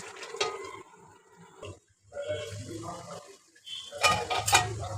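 A pot of sidol curry is covered with a lid amid clattering cookware. Several metallic clinks and scrapes come through clearly, with a louder burst of clanking near the end.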